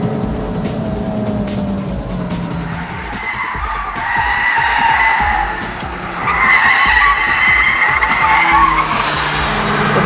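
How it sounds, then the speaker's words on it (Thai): Chevrolet Sonic tires skid and squeal as the rear end swings out during a fast test drive, a loud sustained screech over steady engine and road noise, rising again toward the end. "เมื่อสักครู่นี้มีการเหวี่ยงท้ายออก"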